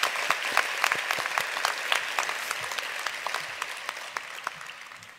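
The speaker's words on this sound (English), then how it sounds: "So can we have a round of applause for all of them?" Audience applause at a university graduation ceremony, a continuous crowd clapping with some sharp individual claps standing out, fading slightly toward the end, with no voices over it.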